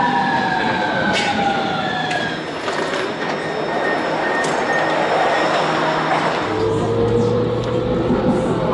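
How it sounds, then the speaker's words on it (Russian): An automated metro train in Milan rumbles and hisses loudly as it pulls into a station and stops at platform doors, with tonal whines rising and falling and a steady low hum at the end. "поезд останавливается прямо напротив дверей, открываются двери, и тогда можно войти."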